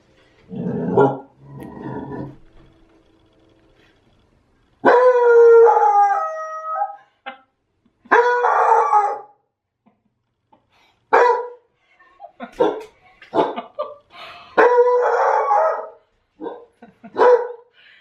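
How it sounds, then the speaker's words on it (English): A hound bays and howls loudly in long drawn-out cries, broken by sharper barks, with short pauses between the outbursts. "He's coming to the door, so Pepper's probably gonna bark."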